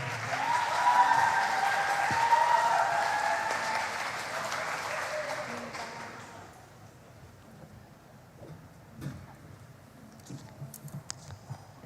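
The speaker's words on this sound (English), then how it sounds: "please give applause to Dr. Ferry Freddy Karwur" Audience at the opening of the UISPP Asian Prehistory Today conference in Salatiga claps for a speaker, a broad wash of applause that holds for several seconds and then thins out into scattered claps in a quiet hall.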